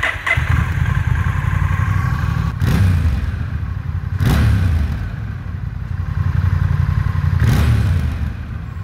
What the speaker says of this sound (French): C'est un bruit de moteur très moderne,